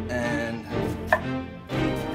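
An onion is sliced thinly with a kitchen knife on a board, a few close, distinct chopping cuts spaced irregularly with no talking.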